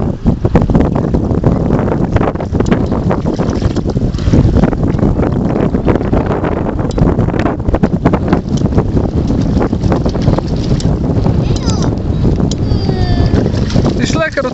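Small pedal boat moving on water outdoors, with steady wind buffeting and water splashing throughout; people talk over it.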